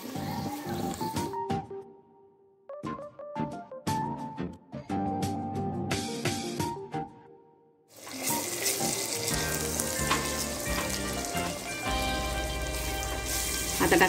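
Ginger garlic paste hits hot oil for mutton pulao, starting with scattered crackles and pops, then a sudden loud, dense sizzle that holds steady to the end, with no speech.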